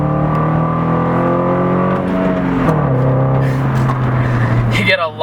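Engine of a 2014 Toyota Corolla S with a six-speed manual, droning steadily under throttle in the cabin, its pitch holding and then stepping down briefly before rising again near the end.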